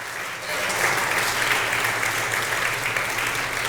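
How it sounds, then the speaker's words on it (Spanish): A church congregation breaks into sustained applause, a dense steady wash of many hands clapping that holds at an even level throughout, with little else audible. "Dele un aplauso a ese gallito que me salió."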